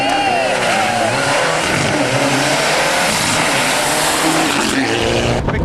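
A Group N rally car runs wide onto the runoff on a stage at the 2003 Rally of the Lakes, its engine roaring loud and close with a rising, straining note and tyre scrub throughout.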